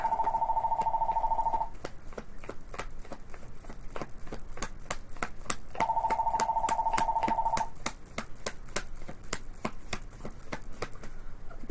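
A telephone rings in two separate electronic trill bursts a few seconds apart, close and clear, while soft taps and card-shuffling clicks continue in the background.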